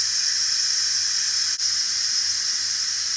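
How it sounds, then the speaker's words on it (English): Steam from an Instant Pot pressure cooker vents in a loud, continuous hiss, with a faint low hum beneath and one brief break midway. "And let all that steam come out."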